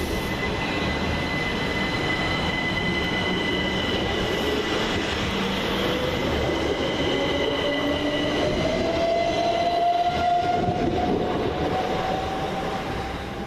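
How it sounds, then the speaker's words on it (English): A Southern class 377 electric train pulls away from a station platform with a loud continuous rumble, a rising motor whine and wheel squeal, sustained and close throughout. "Getting ready to depart is 377134 with the 1313 Southern service from Southampton Central to Brighton"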